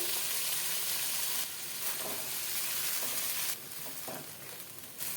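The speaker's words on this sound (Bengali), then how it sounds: "মশলাটা পাকড়ানো হয়ে গেছে তেলটা বেরিয়ে এসছে দিয়ে দিলাম ছোলা সেদ্ধ দিয়ে দিলাম বেটে রাখা কাজু পোস্ত" Boiled chickpeas and a ground cashew-poppy seed paste go into a spice masala frying in oil, which sizzles and hisses loudly and steadily while being stirred, with no voices over it.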